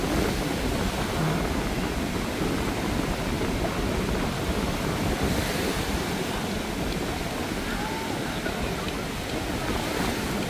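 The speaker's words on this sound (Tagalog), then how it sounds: "Lakas ng hangin." Strong wind roaring across a beach on Boracay island, buffeting the microphone with constant low rumble, over steady surf noise from nearby waves.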